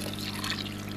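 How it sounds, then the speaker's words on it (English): Cup of boiling water poured into homemade Hershey's cocoa chocolate cake batter, a steady continuous hiss of pouring liquid, close and even, with no voices. "Now we're going to add the cup of boiling water,"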